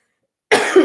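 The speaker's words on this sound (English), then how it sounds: "y'all hear me coughing now, right?" A sudden, close cough bursts out after half a second of silence, a single harsh throat-clearing hack with a short second push at the end.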